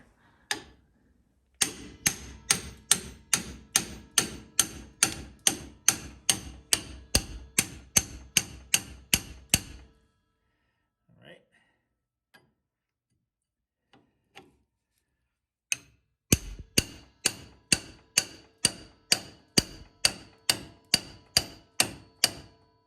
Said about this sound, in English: You just gotta slam it right in between there. It's a good old hammer.